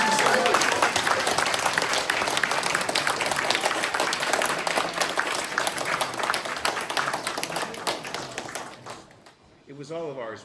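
An audience at a UK Transformers fan convention breaks into loud, sustained applause, a dense clatter of many hands that fades out near the end as a voice begins speaking.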